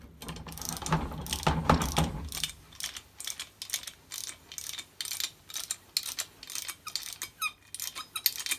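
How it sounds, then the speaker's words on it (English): A torque wrench ratchets on a pellet press, producing a close, steady series of sharp mechanical clicks in an even rhythm, a little busier and heavier at the start. "now you use the torque wrench"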